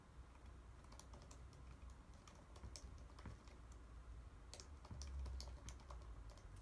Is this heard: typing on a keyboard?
yes